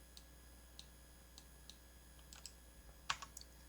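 Computer keyboard keys pressed while modeling in Blender, a few faint, sparse clicks spaced irregularly over a quiet background hum, ending in a slightly louder cluster of taps, no talking.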